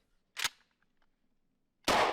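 Two sharp pops from a small toy gun firing candy bullets, about a second and a half apart with quiet between, the second shot louder and longer.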